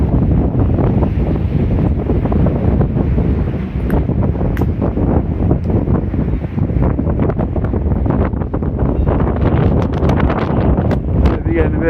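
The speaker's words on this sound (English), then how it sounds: "Getting a bit of wind at the moment" Heavy wind buffets the microphone on a street in Benidorm, Spain, with a constant loud roar and gusty rumble lasting the whole twelve seconds.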